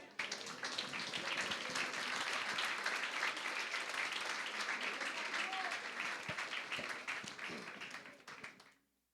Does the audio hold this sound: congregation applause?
yes